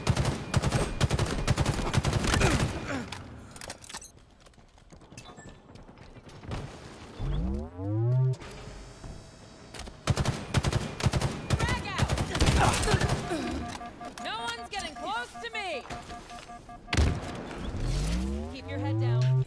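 Gunfire in Halo Infinite ranked Slayer, with rapid bursts and single shots cracking over one another, broken by a short lull and some rising whooshes, while players talk over the action.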